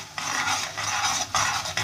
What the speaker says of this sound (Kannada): ನೋಡಿ ಸಾಸಿವೆ ಸಿಡಿತಾ ಇದೆ